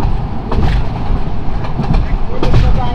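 A passenger train on a Bangladeshi line, running at about 72–73 km/h, gives a steady close rumble with repeated wheel clatter and rattling coach noise throughout.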